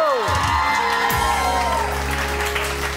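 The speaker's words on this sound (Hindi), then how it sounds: "बहुत सारी तालियां जी, वन मोर टाइम," A television studio audience claps and cheers on a morning show, with loud dense applause and shouts while a voice and musical tones sound over it.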